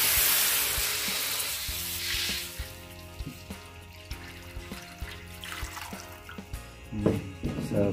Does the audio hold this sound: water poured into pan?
yes